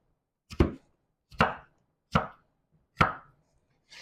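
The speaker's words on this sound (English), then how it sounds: "when you cut these small pieces, when you make these little cubes, they cook faster" Four sharp knife chops on a cutting board as potatoes are cut into small cubes, evenly spaced about every three-quarters of a second, close and crisp with silence between strikes.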